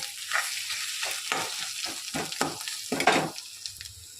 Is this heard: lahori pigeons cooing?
no